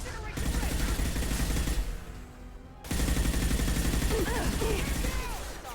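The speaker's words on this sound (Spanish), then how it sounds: "vale, y sigo disparando" Sustained gunfire rattles in Mass Effect 2 during a co-op shootout, dense bursts of shots running for about two seconds, a brief lull, then heavy firing again, with faint voices mixed in.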